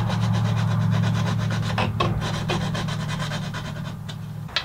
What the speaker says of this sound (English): Now I'll just clean up the tighter corners and the sharp edges with a piece of sandpaper.